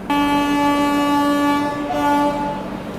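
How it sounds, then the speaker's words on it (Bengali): The 12881 Shalimar–Puri Garib Rath Express sounds a long, loud, steady horn as it departs, a rich sustained tone lasting nearly three seconds over low train rumble. "ট্রেন ছেড়ে দিলে আমাদের 12881 শালিমার পুরী গরিবরথ এক্সপ্রেস"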